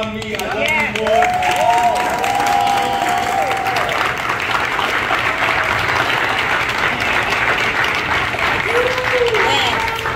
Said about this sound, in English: give Troy a round of applause